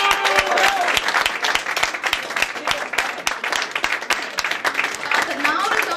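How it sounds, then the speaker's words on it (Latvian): A crowd at a competition show applauds steadily with dense, continuous clapping, loud and close, with a few scattered voices mixed in, as placings are announced. "Aplausi!"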